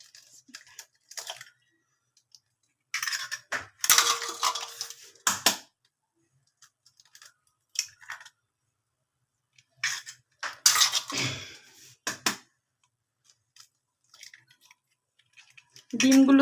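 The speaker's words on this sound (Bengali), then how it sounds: "তো আমি এখন আগে ডিমটা ফাটিয়ে নিব।" Eggs are cracked for an orange-flavoured cake, with sharp clustered clicks and knocks of shell on a bowl rim arriving in brief separated bursts amid quiet pauses, close and fairly loud, with a voice briefly at the end.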